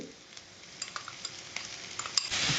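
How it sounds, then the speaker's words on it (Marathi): Finely chopped medium tomatoes hit hot oil with onions in a pan and are stirred, giving a steady close sizzle punctuated by sharp spoon scrapes that swell louder toward the end. "टोमॅटो घालून परत आपण 2 ते 3 मिनिटं छान परतून घेतलं."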